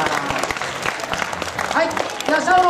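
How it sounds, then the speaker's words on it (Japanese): An audience claps together in a brief burst of applause while voices speak over it. "この4名にまず大きな拍手でお送りください。"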